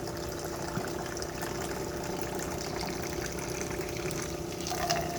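A LAViT beverage centre in a workplace pours water drawn from the sink water line, a steady continuous trickling and flowing hiss at moderate level, running unbroken and without talk.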